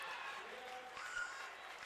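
A crowd at an Alaska versus Alaska Anchorage volleyball match cheers and applauds at set point, a steady, moderately loud roar of voices and clapping throughout.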